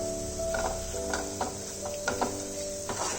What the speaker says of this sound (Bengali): মশলাটা যতক্ষণ ফ্রাই হচ্ছে আমি এখানে 1 টেবিল স্পুনের মতন ঘি অ্যাড করে দিলাম।